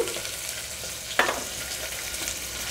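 Carrot pieces, green peas and other chopped vegetables fry in a pan with a steady close sizzle, broken by one sharp stirring clatter partway through.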